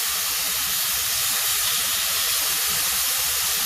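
Beef bulgogi sears in a hot cast iron pan with a steady, loud, broadband hiss of steam and sizzling that holds unbroken throughout, with no voices.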